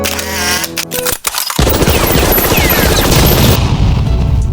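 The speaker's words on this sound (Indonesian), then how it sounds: "Di sanalah musuh terlibat baku tembak dengan TNI" A loud, sustained exchange of gunfire between soldiers and a fugitive erupts after a brief lull, dense rapid bursts and shots filling the scene continuously.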